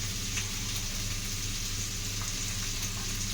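Sliced onions fry with salt in a hot pan and are stirred. A close, continuous sizzle carries faint scraping stir sounds, with no talking.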